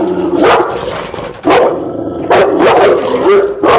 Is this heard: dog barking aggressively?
yes